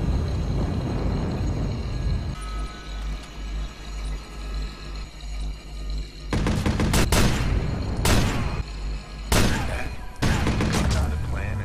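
Gunfire in the online hacking mode of the video game Watch Dogs, with rapid bursts of shots coming in several loud clusters during the second half of the clip.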